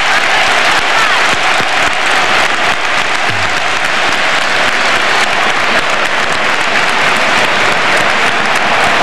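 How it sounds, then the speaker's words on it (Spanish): A football stadium crowd at an Atlético de Madrid versus Albacete league match gives a sustained ovation to a Bulgarian player, a loud, continuous roar of clapping filling the whole stretch without letup. "Aplauso de gala también para el búlgaro."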